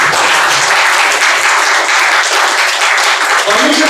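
A church congregation applauds in sustained, dense clapping that stays loud and steady throughout, with a voice briefly rising over it near the end.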